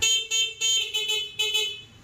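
The horn of a 200cc 4x2 G-Force ATV honks in a series of short blasts, then one longer blast that fades out, loud and close with no talking.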